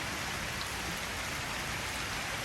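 Steady rain falls on a home yard with ducks and cane toads nearby, a dense, even hiss of drops on surfaces continuing unbroken and close throughout, with no voices.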